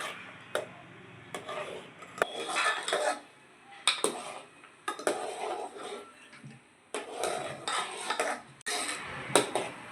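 Butter melting into ghee in a pan, stirred with a utensil that clinks and scrapes against the metal in irregular bursts separated by short quiet gaps.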